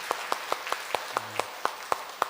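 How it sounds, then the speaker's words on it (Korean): Church congregation claps in a slow, sparse rhythm, about a dozen distinct claps spaced evenly, moderately close, with a brief low murmur midway. "잘 다녀오라고 격려의 박수 한번 보내주시기 바라겠습니다"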